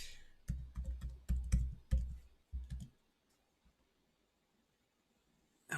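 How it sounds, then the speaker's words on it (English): A computer keyboard being typed on during a trading-software login, a rapid burst of close, crisp key clicks for about three seconds, then near silence apart from a faint click at the end. "I'm just typing username and password,"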